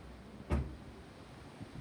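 A door slams once, caught and blown by the wind of a severe storm, a single loud thud over steady gusty background noise.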